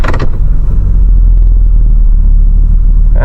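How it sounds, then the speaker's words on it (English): A camping vehicle's engine rumbles loudly and steadily up close with heavy low drone after a brief clunk at the start as it is put in gear, no talk. "Alright, let's put her in gear."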